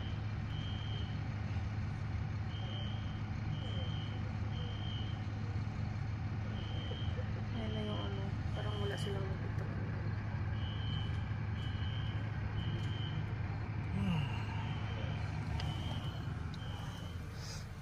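Regular electronic reversing beeps from a fire truck, steady and moderately distant, over a constant low engine rumble.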